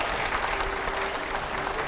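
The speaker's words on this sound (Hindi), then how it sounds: "पहले जोरदार तालियां होनी चाहिए यहाँ पर" Studio audience applause on a Hindi talk show with Anupam Kher, a continuous roar of many hands clapping, fairly distant and even in level from start to finish.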